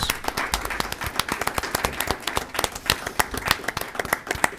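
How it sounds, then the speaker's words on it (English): Applause at a community college board of trustees meeting, steady dense clapping from a moderate-sized audience throughout, fairly close and even in level, with no talking. "let's give them all a very big round of applause, please"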